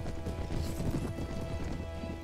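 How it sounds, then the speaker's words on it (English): Horses gallop in Mount & Blade Warband, a dense, continuous drumming of hooves amid battle noise, loud and steady throughout. "Go, freaking horses."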